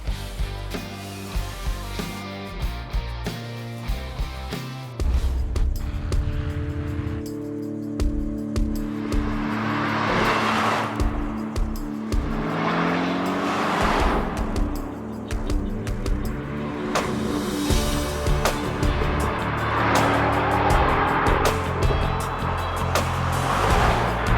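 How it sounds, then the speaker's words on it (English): A custom-built sports car on a test drive after its build is finished, its engine giving a steady, loud drone with swells and shifts in pitch throughout. "Got this car finished up and took it out for a test drive."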